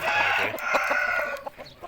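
A young Thai gamecock rooster, about seven months old, clucks and croaks close by in a steady, raspy stream of calls lasting a couple of seconds, with a few sharp clicks mixed in.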